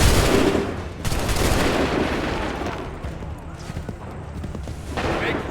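Musket volley fire in the 2012 game Assassin's Creed III on PC, a dense loud burst of gunfire opening the moment and returning near the end, with shouted commands heard amid the shots.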